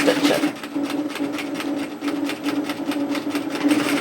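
A sewing machine stitches sweatshirt hoodie fabric, a loud close rapid rhythmic whirring chatter running steadily with slight speed changes.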